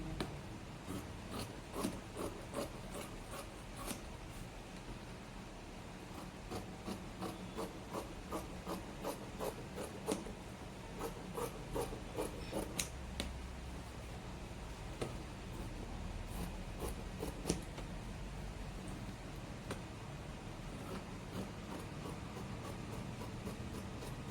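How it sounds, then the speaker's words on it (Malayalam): Scissors cut blouse fabric for a princess-cut pattern in repeated crisp snips. The snips come in rhythmic runs with short pauses, fairly quiet over a low room rumble. "ഇത് ഞാൻ കട്ട് ചെയ്തെടുക്കുവാണേ കട്ട് ചെയ്യുന്ന കാണിക്കാം"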